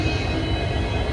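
Steady, loud rumble and hum of the Vasco–Yesvantpur express standing at a railway station platform, a continuous dense mechanical drone with no voices.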